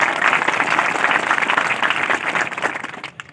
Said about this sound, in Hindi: उनके लिए जोरदार ताली एक बार बजाई जाए